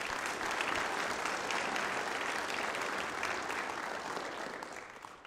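A welcome-home crowd applauds the Goodhue girls basketball team after their state tournament run, a dense, continuous wash of clapping that holds steady and then tapers off near the end, with no talking over it.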